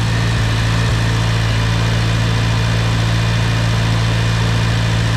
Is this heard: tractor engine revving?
yes